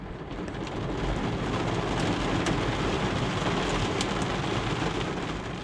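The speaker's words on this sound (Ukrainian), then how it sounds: "дощ підсилюється все сильніший і сильніший" Heavy rain pours down steadily, a dense continuous roar with no pauses, loud and close throughout.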